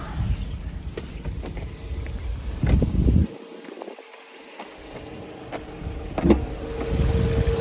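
Idling engine of a 2017 Jeep Cherokee heard with the hood open, a steady low rumble with a brief quieter dip partway through, close and moderately loud, no talking.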